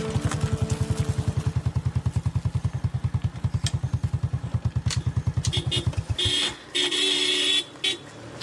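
A small moped engine chugs in a fast, steady putter with a sack of fertilizer strapped on the back, close and loud, on a rural road near rice fields in Cambodia, before easing off into brief clattering and a couple of short toots.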